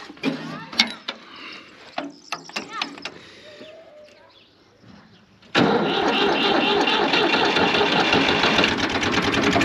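An old tractor engine with a fertilizer spreader attached on a village field starts after some clanking and handling noises, then runs loud and steady close by for the rest of the clip.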